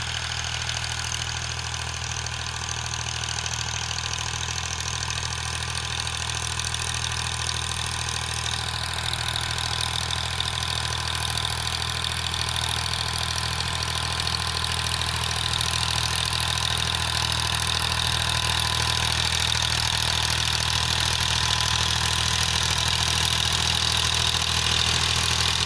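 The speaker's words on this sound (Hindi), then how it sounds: "दो हज़ार चौदह का मॉडल है, 445 पावर ट्रैक।" A 2014 Powertrac 445 tractor engine idles steadily and loudly up close, a continuous even rumble with a mechanical clatter, fitted with a 7 ft Sonalika rotavator, with no talking.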